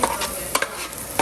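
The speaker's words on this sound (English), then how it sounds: "So we got the onions and the fennel in here cooking." Onions and fennel sizzle in a hot pan with soft stirring scrapes, a brief close crackle with no talking.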